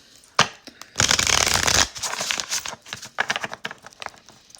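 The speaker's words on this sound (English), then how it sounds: "So let's shuffle out a card." Tarot cards shuffled during a love reading: a sharp snap, then a dense riffling burst lasting about a second, followed by softer intermittent card flicks and slides, close and fairly loud.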